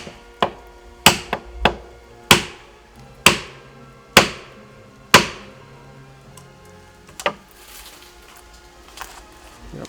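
Hard wooden pegs pounded into a tree trunk at the edge of a rice field, a sharp percussive strike repeated about eight times at an uneven pace, each knock ringing briefly, then faint scattered taps and quiet background.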